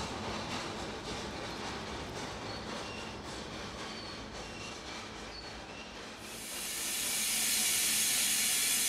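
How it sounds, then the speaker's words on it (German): Fireless steam locomotive working at the Pagotan sugar mill in Java: a steady, rushing steam and rail rumble that swells into a loud, bright hiss of escaping steam for the last few seconds. "Die Mühle Pagotan mit regulärem Einsatz von feuerlosem Dampflok."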